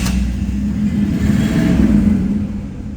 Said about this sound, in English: We're going to start this car and see how she sounds.